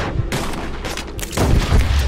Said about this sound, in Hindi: इस पिस्टल से काम चलाते हैं।